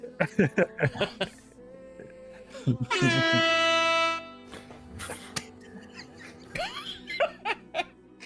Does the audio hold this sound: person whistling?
no